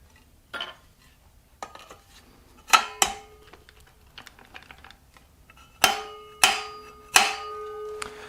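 Aluminum rivets being set on a cheap lightweight prospecting shovel: sparse sharp metallic taps and clicks, several louder ringing strikes in a cluster near the end, close and alone without talk.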